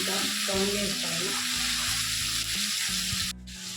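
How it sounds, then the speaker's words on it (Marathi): Spices fry in oil in a kadhai for paneer butter masala, making a steady hissing sizzle with a low musical backing underneath. "थोडंसं तळून घ्यायचं आहे।"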